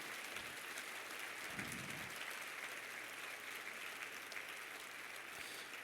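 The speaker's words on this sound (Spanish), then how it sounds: "apláudele al Señor muy fuerte" Applause in a church service, a steady spread of many hands clapping at a low, fairly distant level, with a brief low thump early on and a faint hum underneath.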